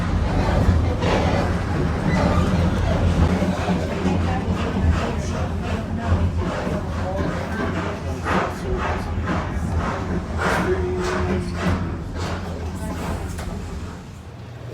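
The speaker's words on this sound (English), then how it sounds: "Pulling into the train station in Silverton." A steam train pulls into Silverton station with a continuous rolling rumble and clanking, while a crowd of voices murmurs throughout and the sound gradually eases off near the end.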